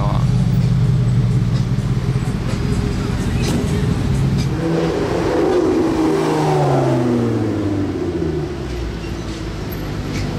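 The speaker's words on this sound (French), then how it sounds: "c'est la première fois que je l'entends sonner cette nouvelle Lotus" A new Lotus sports car engine revs loud and close for about ten seconds, its pitch rising and sweeping through several climbs before settling, with a person talking over part of it.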